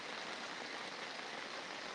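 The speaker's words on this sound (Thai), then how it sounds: "ฝนตกหนักต่อเนื่อง" Heavy, steady rain pours down during flooding in Mueang district, Yala province, Thailand: a dense, even hiss that holds at one level throughout without a break.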